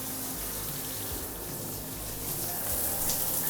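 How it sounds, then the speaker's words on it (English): Water running from a shower in an old home during an inspection, a steady close hiss and rush of flow that holds constant and swells slightly toward the end, with no talking over it. "does it actually affect the flow of the water here in the shower?"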